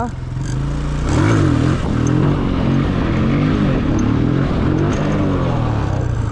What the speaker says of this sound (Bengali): আমি তাহলে একটু হুইলি মারতে মারতে যাই